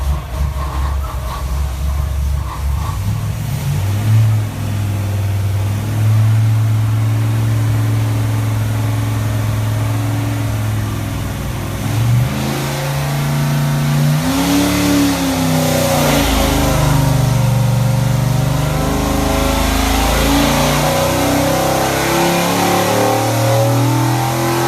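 A Ford 408W stroker V8 with AFR 205 heads and a Holley Hi-Ram intake on an engine dyno, loud and close, rising from a steady drone into a long hard rev pull from 3,500 to 6,500 RPM.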